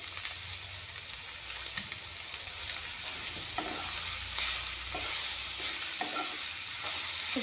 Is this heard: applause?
no